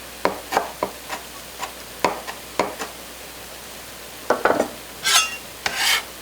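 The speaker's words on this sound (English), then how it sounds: "then I slice them and coarsely run the knife through them." Knife chopping fresh basil and mint leaves on a cutting board, a series of crisp, irregular close taps and slices, with a couple of longer scraping strokes near the end.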